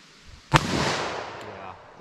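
A single sharp, loud gunshot from a .40 S&W pistol or .357 Magnum revolver cracks out, followed by a decaying echo that fades over about a second.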